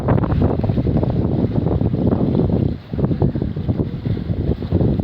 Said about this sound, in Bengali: কি জোরে যে ভাই ঘূর্ণিঝড়।